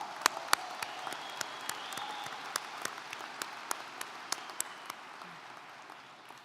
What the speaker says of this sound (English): I want to hear another round of applause.